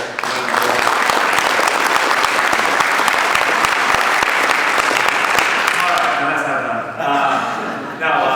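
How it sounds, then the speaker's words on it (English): Audience applause at a recruiting and HR industry event, a loud, dense round of clapping that holds steady before thinning out, with a few voices breaking through as it fades. "I think he deserves a quick round of applause."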